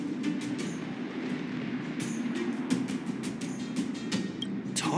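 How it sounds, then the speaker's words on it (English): Strange noise from a Fragmentum monster in the video game Honkai Star Rail, a steady rumbling, rushing drone with scattered bright clicks and crackles, heard alone at a fairly constant level. "Do Fragmentum monsters usually sound like this?"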